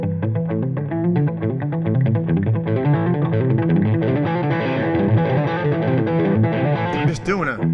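Electric guitar plays a hybrid-picking lick with hammer-ons through distortion and chorus effects, a steady run of quick picked and hammered notes with a dense, sustained tone.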